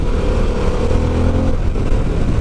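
A Harley-Davidson Pan America motorcycle engine running loud and close, a steady droning rumble that holds throughout without any talking.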